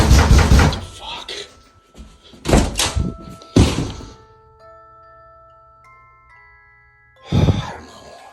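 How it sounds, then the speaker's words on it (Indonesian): Loud, heavy pounding blows on a door, several separate bursts of banging spaced apart with quiet gaps between, followed by a lingering ringing tone and a final burst of pounding. "ada sesuatu yang menggedor pintu dengan keras"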